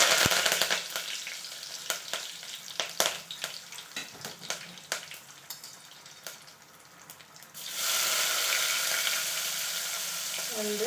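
Mustard seeds and curry leaves sizzle and crackle in hot oil, scattered sharp pops over a steady frying hiss that swells louder near the end.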